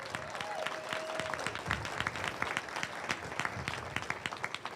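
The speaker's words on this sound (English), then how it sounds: "Let's give them a big round of applause." Audience at a high school ribbon cutting ceremony in Rochester applauds city council members, a steady patter of many hands clapping that grows more distinct and individual toward the end, moderately quiet.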